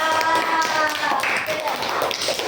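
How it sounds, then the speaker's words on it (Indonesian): A classroom group applauds together, a dense burst of many hands clapping that fills the room and runs steadily throughout, loud and close. "Kelompok 1 tepuk tangannya mana tuh?"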